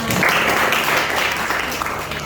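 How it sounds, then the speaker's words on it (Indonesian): Students in a classroom guidance session applaud themselves, a dense, steady wash of clapping that stays loud and even throughout with no pauses. "tepuk tangan dong buat kalian semua"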